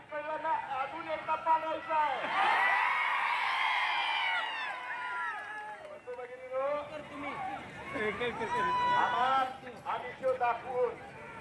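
Crowd of supporters celebrating Bhalke's election victory in Pandharpur, a swell of cheering and shouting voices rising and falling, mixed with a reporter talking over the noise.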